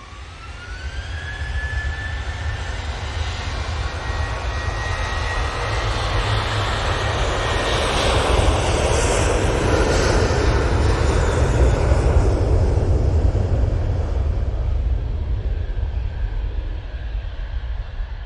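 An airliner jet departing Manchester Airport for Split gives a loud, sustained engine roar with a rising whine, building toward the middle and staying strong to the end, with no one speaking.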